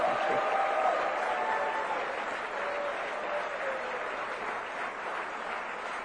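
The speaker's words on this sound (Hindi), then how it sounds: "इसमें तो ताली बजाओ यार" An audience at the India Today Conclave applauds during a prime ministerial speech, with sustained, even clapping from a large hall that swells slightly at first and then holds steady, with faint crowd murmur underneath.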